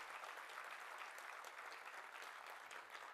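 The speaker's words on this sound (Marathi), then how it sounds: "तर एकदा जोरदार टाळ्या वगैरे या सगळ्या मराठा योद्ध्यांसाठी." A crowd in an auditorium hall applauds loudly and steadily, a dense wash of many hands clapping at once that holds without a break.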